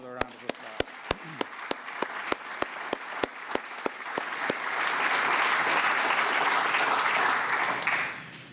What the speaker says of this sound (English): Please join me giving him another round of applause.